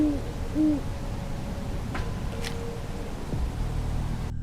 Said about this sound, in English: A quiet night in the woods interjected with a hoot from an owl